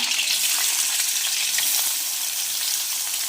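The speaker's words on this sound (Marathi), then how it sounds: "कढईमध्ये तेल ठेवलं गरम करायला आपण पटकन त्यांना फोडणी घालून घेऊया" Green chilies and curry leaves temper in hot oil in a kadai, a dense, continuous crackling sizzle heard up close with no voices.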